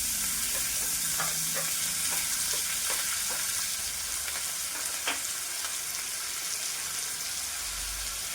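Grated raw potato frying in a pan gives a steady, close sizzle, with light scraping stir strokes scattered through it and one sharper scrape near the end.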